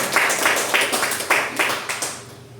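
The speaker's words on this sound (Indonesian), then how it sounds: "Tepuk tangan untuk kita semuanya." Audience at an in-house teacher training session at SDN Jomblang 01 elementary school claps in a rhythmic series of group claps, nearby and fading slightly toward the end.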